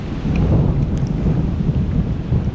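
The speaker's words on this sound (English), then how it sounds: "There's the thunder." Deep rolling thunder rumbles steadily through a heavy downpour of rain near a trout stream, a continuous low roar with no voices.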